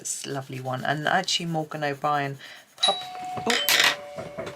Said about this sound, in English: That was my doorbell, you probably heard.